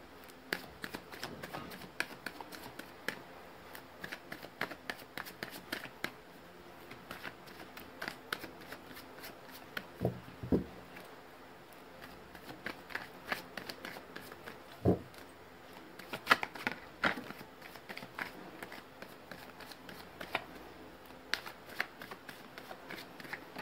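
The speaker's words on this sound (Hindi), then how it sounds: "मैंने कर लिया कार्ड्स की शफलिंग" Tarot cards being shuffled by hand, a steady run of soft riffling and slapping card sounds close up, with no talking.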